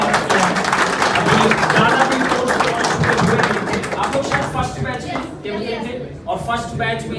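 Applause at a PW Nirman Utsav toppers event, a crowd clapping in quick, dense, sustained patter that thins toward the end, with someone speaking over it.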